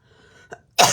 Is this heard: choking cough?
yes